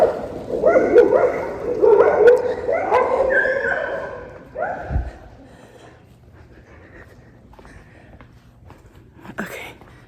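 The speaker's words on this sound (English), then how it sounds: "I see several dogs." Several stray dogs in a park in Merida, Mexico, barking and yipping loudly at close range for a few seconds, then fading to quiet with faint whimpers and a brief voice.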